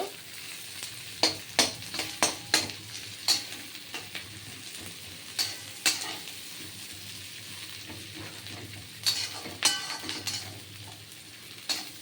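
Onion and green chilli fry in a pan with a low steady sizzle, punctuated by clusters of sharp spatula scrapes and clinks against the pan that come in short bursts with quieter gaps between.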